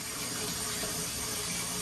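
Water runs steadily from a bathtub tap, filling for a pug's bath, a continuous close splashing rush with no break.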